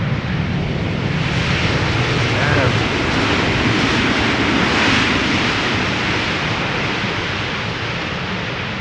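An airliner arriving on the Polderbaan runway 18 at Amsterdam Schiphol, a loud, broad roaring jet rush holding steady and swelling slightly as it passes near.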